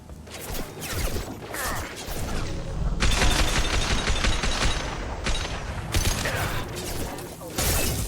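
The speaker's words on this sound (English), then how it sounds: "jetzt habe ich einfach ganz taktisch um ihn herum geschossen" Video game gunfire from Mass Effect 2 erupts in dense bursts of rapid shots and crashing impacts, loud and continuous over about eight seconds, mixed with game sound effects and faint voice.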